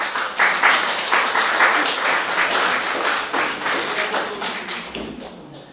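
Audience applause in a theatre, dense continuous clapping from a sizable crowd, loud and close, holding steady for several seconds before thinning out at the end.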